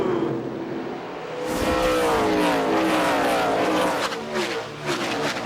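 NASCAR stock cars racing through turn 1 at New Hampshire, engines roaring loudly past with a rising and falling whine and a brief screech of tires as the pack sweeps by.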